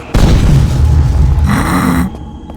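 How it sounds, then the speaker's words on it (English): A single booming blast from a powerful weapon in a video game, a sudden loud thud with a rumbling tail that lasts about two seconds, then cuts off. "that is just the most anemic explosion I think I've seen in ages"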